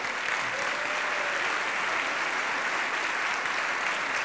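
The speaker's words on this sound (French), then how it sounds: "Veuillez vous lever, s'il vous plaît, pour que nous puissions vous applaudir et vous remercier" An audience at a charity campaign launch applauds former campaign presidents with dense, sustained clapping from a large crowd, steady and even throughout.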